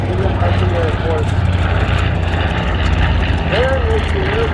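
A B-25 bomber flies at the Dayton airshow in Ohio, its piston engines giving a loud, steady propeller drone that fills the whole stretch, with a voice speaking over it.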